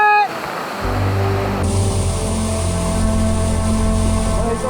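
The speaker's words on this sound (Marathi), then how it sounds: "हे बघा पूर्ण धबधब्याखाली जाता येते आपल्याला पूर्ण." Waterfall on the Torna Fort trek, loud and steady, with water thundering down close by while people stand beneath it. A continuous roar fills the whole stretch after a brief start, and tonal hums sit under it.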